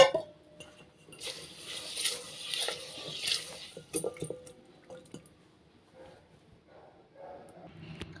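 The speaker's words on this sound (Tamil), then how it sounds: "பாத்திரத்தில் சேர்த்திட்டு தண்ணி ஊற்றி நல்லா அலசிக்கலாம்" Water sloshes and drips in a pot as pearl millet grains are rinsed, with faint clinks of grains and metal, quiet and close, with no talking.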